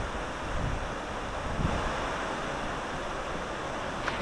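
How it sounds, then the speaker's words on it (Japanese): Broadband wind rushes steadily past the microphone on a shaded path to Yoro Falls in Gifu, Japan, a constant outdoor roar with brief gusty buffets and no voices. "いい風が吹いています。"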